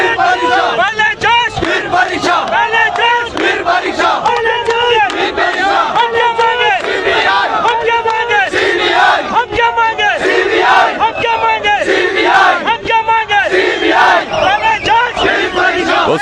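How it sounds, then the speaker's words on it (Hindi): A large crowd of young protesters shouts and chants continuously at a street demonstration over an exam board, dense overlapping voices rising in loud waves throughout. "और काफी बड़ी भीड़ है, निसंदेह बहुत बड़ी भीड़ है यहाँ पर।"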